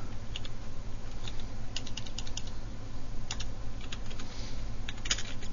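Steady typing on a computer keyboard while entering an address search in mapping software, with clustered clicky keystrokes in short bursts over a low steady hum.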